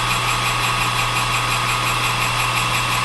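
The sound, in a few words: metal lathe running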